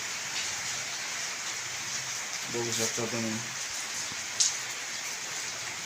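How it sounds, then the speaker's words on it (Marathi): Morning rain falls over a village in a steady, faint hiss of drops on surfaces, while someone speaks briefly partway through. "आज सकाळी पाऊस चालू झाला आहे आमच्या गावामध्ये"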